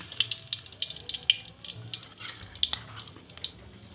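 Cinnamon sticks sizzle and crackle in hot oil, with irregular sharp pops and spatters over a low frying hiss, close by in a home kitchen.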